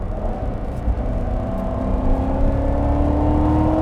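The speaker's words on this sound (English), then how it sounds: "you can actually hear the supercharger in stealth mode from in the car" Faint supercharger whine from a 2019 Chevrolet Corvette Z06 in stealth mode, heard from inside the cabin as a thin steady tone rising slowly over a low engine drone and road rumble, with no talking.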